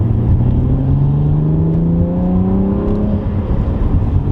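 A BMW car accelerating in second gear, heard from inside as a loud, steady engine drone rising in pitch over several seconds, with a constant whir beneath it.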